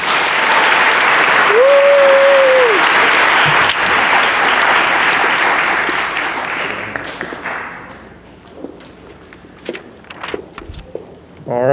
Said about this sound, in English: Give a round of applause for my homeroom.